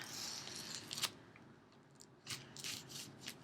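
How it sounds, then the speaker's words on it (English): Scissors cut into a Secret Santa gift box with quiet snipping and rubbing, a sharp snip early and then a cluster of crisp cuts, all faint and close. "I have my handy dandy scissors here so that I can get into this box"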